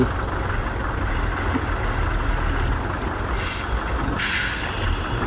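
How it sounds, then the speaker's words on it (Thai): A medium six-wheel truck hauling soil in Laos runs with a continuous rumbling engine close by, with a short hiss of air near the end, no voices. "เป็นหกล้อรุ่นกลางพี่น้อง อยู่ทางสปปลาว เป็นนิยมใช้รถรุ่นกลาง สำหรับบรรทุกดิน"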